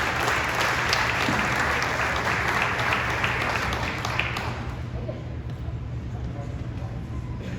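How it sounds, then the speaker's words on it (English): Audience applause at a hall of fame celebration honoring Boys and Girls Club supporters, a dense, steady wash of many hands clapping in a hall that thins and softens after about four seconds. "A big round of applause for their support to the Boys and Girls Club."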